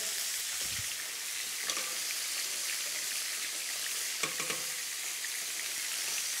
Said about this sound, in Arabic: نعلي عليها يبتدي البصل يشتغل